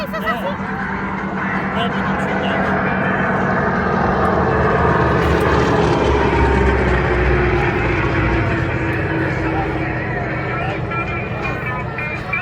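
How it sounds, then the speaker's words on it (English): Heavy radial piston engines of a military aircraft at an airshow rumble loudly and continuously nearby, a deep throbbing drone that swells slightly in the middle, with voices faintly underneath. "That is the beautiful sound of big round radial engines."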